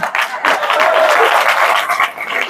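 An audience claps in steady applause for about two and a half seconds, close and loud, a dense wash of hand claps with no break.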